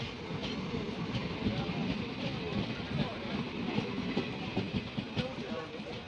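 A train pulls away on a single-line railway route in Kerala, its wheels beating a steady clickety-clack on the rails, loud and close for several seconds with no one speaking.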